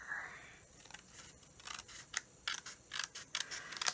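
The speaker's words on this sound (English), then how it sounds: "just a simple pair of scissors. Trim that off." Scissors snip through card stock in a quick run of sharp, close cuts, the blades clicking in an uneven rhythm.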